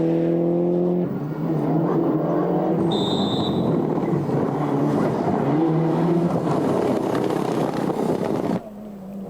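A Mazda 323 GTR rally car engine at the 1997 Ypres Rally in Belgium roars loudly and close, with revving tones that climb and shift across gear changes before dropping away near the end.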